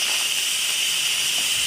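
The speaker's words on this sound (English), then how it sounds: "I am going to release this vent and it may steam and sputter a little bit" Steady, loud hiss of steam jetting from the opened pressure-release vent of an Instant Pot cooking chili, a continuous bright rush that holds evenly from start to finish with no talking over it.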